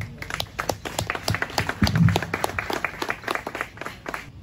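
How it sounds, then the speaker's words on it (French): Members at a lodge ceremony in Léogane for the feast of St John the Baptist clap together. The individual hand claps stand out distinctly, with a moderately sized group keeping up a brisk, uneven rhythm that swells slightly midway. "Déodat Domingue, que je demande d'applaudir."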